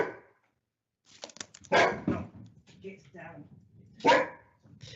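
A noisy pet dog barks loudly twice at home during an online council committee meeting, sharp yaps cutting in close to the microphone between stretches of a person speaking.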